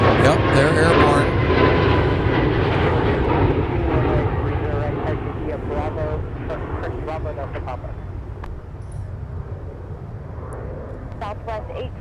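A commercial airliner takes off at an airport, its jet roar loud and broad at first and then slowly fading as it climbs away, with a voice talking over the noise.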